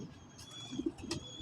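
Pigeons of a prized breed coo softly in a loft, a few low rounded calls near the middle and end, with light chirps and faint background noise and no talk.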